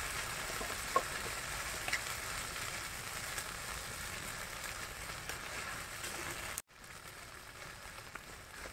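Ground spices with turmeric, salt, cumin and chilli fry in a pan for egg curry, giving a steady, moderately faint sizzle with a few light clicks, briefly dropping out before resuming more quietly.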